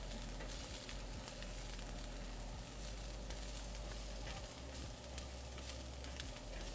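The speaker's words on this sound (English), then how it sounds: "This is frying really quickly." Ground pork frying fast in a pan gives a steady, dense sizzle close by, faint but unbroken throughout, with no talk.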